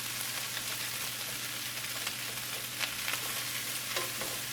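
Minced garlic sautés over fairly high heat in a pan, a steady close sizzle with intermittent scraping stir strokes and a low hum underneath, no voices.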